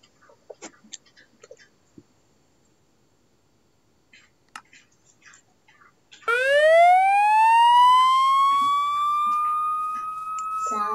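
A few scattered clicks and taps, then an electronic siren kicks in, rising steeply and holding a loud, sustained wail.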